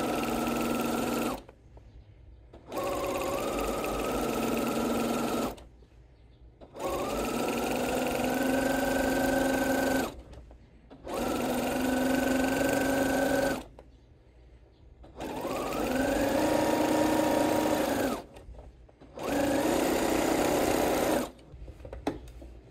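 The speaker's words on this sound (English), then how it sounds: "if the machine is going to eat my fabric, it happens instantly, but we made it a little way" A needle felting machine stitches through fabric in five sustained motor-driven bursts, each a few seconds long with short silent gaps between. The runs are steady and fairly loud, with no talk.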